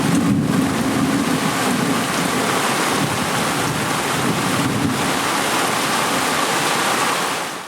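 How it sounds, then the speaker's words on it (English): Heavy rain pours steadily throughout on a sailboat in the Bahamas, a dense continuous hiss with low rumbling thunder rolling beneath it. "it is raining, it is lightning, it is horrible weather"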